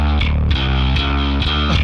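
Bass guitar played through drive distortion and amp modeling, a loud thick gritty line of sustained low notes that change pitch every half second or so, with no voices.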